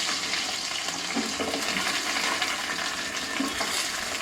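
Tempering of dals, dried red chilies and onion frying in oil for a pumpkin dappalam, with a dense, steady crackling sizzle close up throughout, interrupted by occasional light stirring scrapes.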